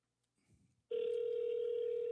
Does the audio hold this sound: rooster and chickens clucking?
no